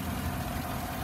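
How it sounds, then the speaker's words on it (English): A 2016 Chevy Suburban's 5.3-liter V8 idles steadily, a low, even engine rumble heard close for about a second with no speech over it. "There's the engine."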